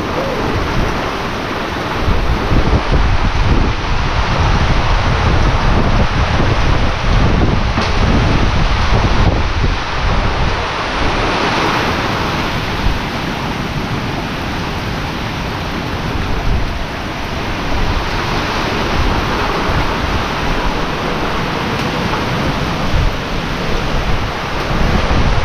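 Typhoon Tino drives a strong, sustained roar of wind across the open mic near banana plants and chickens, a dense and loud rushing that barely lets up, with occasional heavier gusts and no voices.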